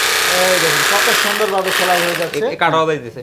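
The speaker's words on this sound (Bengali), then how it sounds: "একটা মেশিন চালাই দেখাইতে পারি আপনাদেরকে সরাসরি সেলাই করে দেখাবো" A sack sewing machine stitches through a sack with a loud, continuous mechanical whir, while someone talks over it close by.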